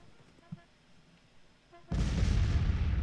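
Artillery in the Civil War strategy game Grand Tactician opens up as a sudden heavy rumbling roar after near-quiet, a dense, sustained barrage that fills the closing second.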